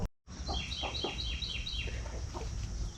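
Farm flock of mother hens clucking with their chicks, repeated soft clucks layered with high peeping chirps over a steady outdoor murmur, close and continuous throughout.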